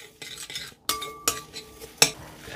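Meatball mixture of meat, oregano and breadcrumbs being mixed with a utensil in a bowl: close, irregular scraping and clinking of metal against the dish, with a few sharper knocks between softer stirring sounds.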